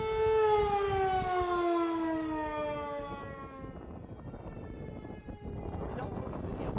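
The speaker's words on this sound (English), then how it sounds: "Cell phone video captured the sirens going off around 2:30 a.m. in DeSoto and nearby Lancaster." Civil defense warning sirens in DeSoto, Texas, set off at night after the system was hacked, wail with long falling tones, loud and close, then fade into wind and rumbling background noise.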